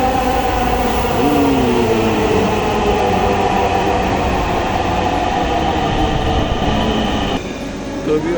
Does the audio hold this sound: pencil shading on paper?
no